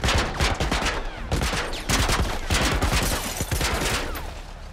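Heavy gunfire in The Last of Us Part 1: dense, loud bursts of rapid shots, volleys clustering and overlapping throughout with no pauses and no talking.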